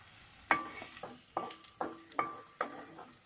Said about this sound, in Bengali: দুইটা পেঁয়াজ এখানে তেলে কুচি কুচি করে দেওয়া হয়েছে